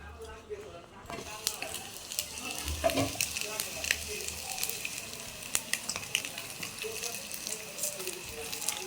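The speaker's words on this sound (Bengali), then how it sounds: "চুলার উপরতেই বড়া হচ্ছে গরম গরম খেতে হয়" Fritters (bora) frying on a stove, with a steady, soft sizzle and occasional clinks and stirring sounds under quiet talking.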